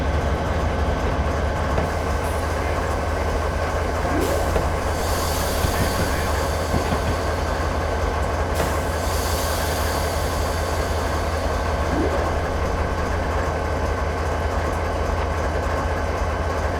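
A train brakes in the Train Simulator 2013 game, its constant heavy rolling rumble carrying a few faint wheel squeals and scattered metallic clicks throughout.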